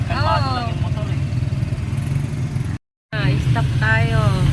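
An e-bike hums along on a road trip at a calm pace, its steady road and motor rumble running under a voice, with a brief dropout midway.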